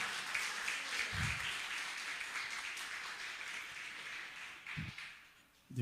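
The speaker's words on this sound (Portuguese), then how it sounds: "Você pode aplaudir o Senhor por este privilégio nesta noite?" A church congregation applauds, producing a steady wash of distant clapping that fills the space evenly, with a few nearer thumps and bumps rising toward the end.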